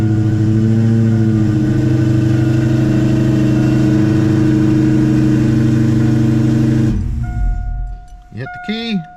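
A Ford Coyote V8 swapped into a car runs with a loud, steady engine drone and strong low harmonics for about seven seconds, then cuts sharply. A short burst of whirring follows, with falling and rising tones at the end.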